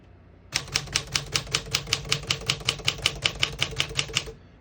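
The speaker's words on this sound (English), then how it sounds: "I'm gonna keep it on single for now and keep typing." Someone types on a 1955 Smith-Corona Silent-Super portable typewriter set to single spacing: about nineteen crisp, evenly spaced key strikes in a steady rhythm, close and clear, with no talking.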